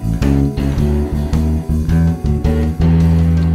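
Blues bass line with a full backing track, steady plucked low notes driving under drums and chords, loud and continuous with no talking.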